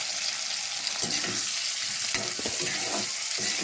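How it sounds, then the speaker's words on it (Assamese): Jackfruit pieces fry in hot mustard oil, a bright continuous sizzle with soft stirring scrapes and light clatters, close and steady. "তেল গৰম হৈ গ'ল, অলপ অলপকৈ ফ্ৰাই কৰি লওঁ।"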